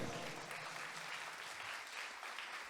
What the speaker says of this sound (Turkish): Sizlerin alkışlarınız bizler için büyük bir teşekkür.